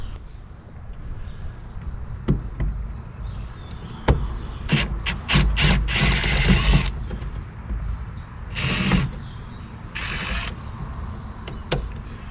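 A ratchet wrench loosens small bolts on the cowl of a Jeep TJ, giving a few short bursts of ratcheting clicks mid-clip, with quiet pauses between and no talking.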